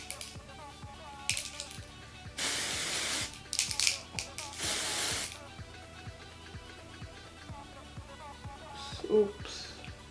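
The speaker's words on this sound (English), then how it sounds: "I'm gonna go ahead now and spray the foundation." Short bursts of hissing spray from an airbrush applying foundation come close up, a few quick puffs in a row, over a faint rhythmic ticking and quiet background noise.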